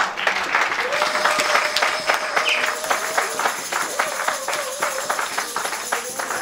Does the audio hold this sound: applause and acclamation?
yes